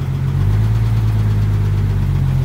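A 1959 Willys Jeep engine, converted from a generator to an alternator, pulls away in first gear with a loud, steady, low rumbling drone close by and no talk.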